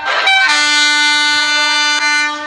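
A loud, sustained vehicle horn from a mobile driving game blares as one steady tone for about two seconds, starting abruptly with a brief dip near the end.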